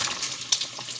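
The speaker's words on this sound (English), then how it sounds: "So now I'm gonna add the meat in there, which is the turkey neck and the beef." Turkey neck and cubed beef being added to a hot cooking pot for stew, bursts of sizzling and frying with light stirring clatter, close and alone.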